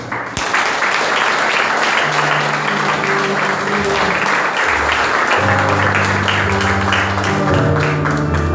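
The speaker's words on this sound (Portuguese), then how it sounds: "E louvamos a Deus com as palmas." A church congregation clapping hands in praise during a Sunday service, dense rhythmic clapping mixed with music and sung tones building loudly throughout.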